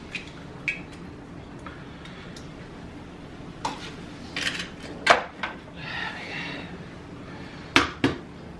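Two eggs cracked straight into a glass jar for homemade mayonnaise: a few sharp, separate taps and clinks against the glass over a quiet kitchen background.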